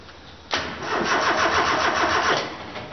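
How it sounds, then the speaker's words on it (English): A Ford Escort MK3 Cabriolet XR3 project car cranks without firing, its starter motor churning in a steady rhythmic whir for about two seconds after a sudden start, close and loud, with no catch. "She'll crank, but it won't fire."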